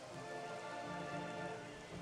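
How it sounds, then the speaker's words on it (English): Steady rain in Metroid Prime Remastered, pattering against the visor and gun of the suit as a continuous, even hiss of drops with no voices. "you can see the rain hitting the visor as well"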